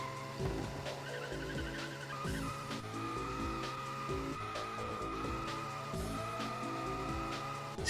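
A rally car in Colin McRae Rally 2.0 spins its wheels with constant skidding and tire squeal over a droning engine, the game sound steady and fairly quiet throughout.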